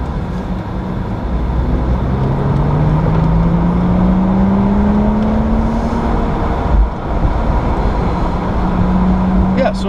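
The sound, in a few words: wind noise in a BMW 435i convertible with the windows down on track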